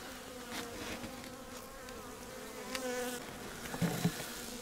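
A steady, close hum of many honeybees buzzing together on a hive frame, with a few louder individual buzzes rising above the swarm near the end.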